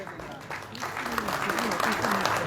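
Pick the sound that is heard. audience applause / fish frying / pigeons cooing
audience applause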